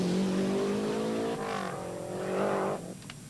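A rally car on a stage of the 1990 Rali Vinho da Madeira, engine loud and close, revving high and changing pitch through gear shifts, then easing off as it pulls away, with no talk.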